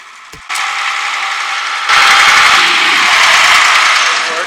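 Mechanical clicking and ratcheting as Case 1150 transmission gears engage, a brief clunk then a steady louder grinding whir with rattling underneath, close up and continuous; reverse is faulty.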